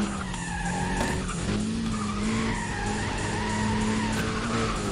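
A race car screams under hard acceleration in Need for Speed ProStreet, its engine whine rising and falling steadily while tires squeal and skid continuously, loud and close with no talking.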